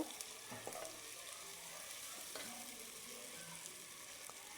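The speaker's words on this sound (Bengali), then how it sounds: "দেওয়ার পর আমি কিছুক্ষণ আবার নাড়া দেবো" Ginger-garlic paste frying in a pan for pulao, with a faint, steady hiss of oil and a few light scrapes of a spoon stirring through it.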